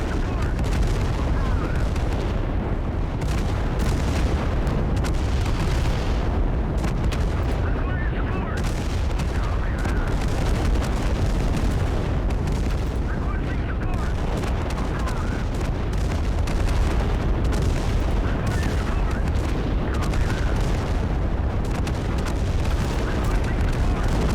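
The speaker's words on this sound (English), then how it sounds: "Still lobbing shells into the facility." Artillery shells keep landing on a facility in the military shooter Total Conflict: Resistance, a dense, continuous rumble of booms and blasts that goes on throughout, loud and close, with voices talking under it.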